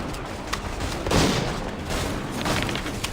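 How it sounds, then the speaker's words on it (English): Gunfire rattles through a battle in the video game Assassin's Creed III, a dense, continuous barrage of musket shots and booms with heavier bursts near the start and middle, loud and without speech. "Return fire! Return fire!"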